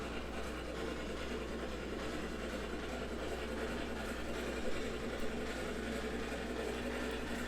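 Steady rumble of a locomotive slowly pushing railroad cars in the video game Railroads Online, a continuous low mechanical drone with faint rolling noise and no speech.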